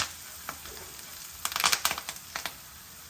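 Garlic tempering sizzling and crackling in hot oil for beans fry, soft and close with brief bursts of spitting and stirring, no voices.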